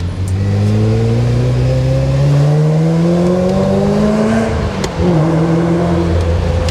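A Ferrari 348 TS engine revs up steadily, its pitch climbing for several seconds, dips briefly, then roars again, loud and close.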